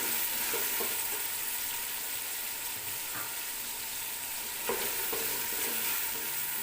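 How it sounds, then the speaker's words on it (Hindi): Potatoes and peas with spoonfuls of yogurt frying in a pan for village-style aloo matar pulao, a steady sizzle broken by scraping stirs of the spoon, close and continuous. "थोड़ा सा इसको भून देंगे"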